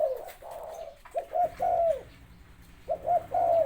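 A decoy dove coos in repeated soft, rounded phrases, close and clear, with short pauses between bursts and a faint low background hum.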